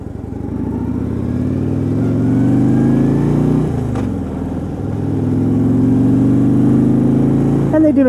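A 2016 Harley-Davidson Road Glide rental bike has its engine revved up close and loud, the deep rumble rising and falling through two long throttle swells with a short dip between them.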